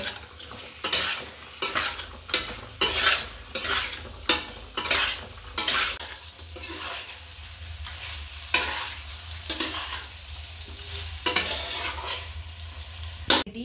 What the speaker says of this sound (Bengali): তারপরে দিচ্ছি টমেটো, দিয়ে একসাথে কষিয়ে নেব।